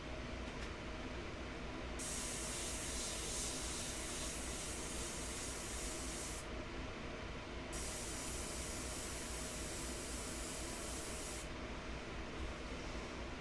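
Airbrush spraying India ink onto paper, a steady close hiss that runs through the whole stretch, brightening in long bursts as the trigger opens and briefly dulling between passes.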